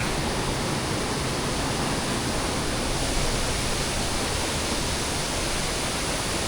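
Elamulla waterfall in Mandaram Nuwara roars in a steady, dense, close wash of falling water, loud and unbroken with no voices.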